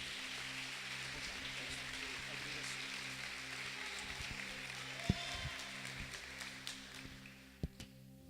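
Inside a Brazilian church conference, a congregation claps in a dense, rain-like patter over sustained keyboard tones. A few sharp louder claps stand out toward the end as the applause thins and fades.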